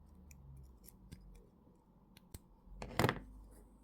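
Jewellery wire cut with snips while making a wire-wrapped ring, a few faint clicks and a sharp snip near the end, quiet and alone.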